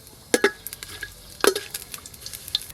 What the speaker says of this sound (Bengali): সাদা তেল গরম হয়ে গেছে, গোটা গরম মশলা আর তেজপাতা দিয়ে দেব।